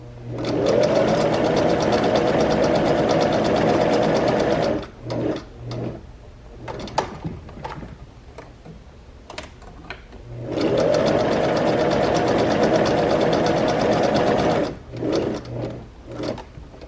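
A sewing machine stitches a seam in long, loud, steady bursts. Two runs of a few seconds each are separated by a stretch of small clicks and handling noises. It is close by and no one speaks.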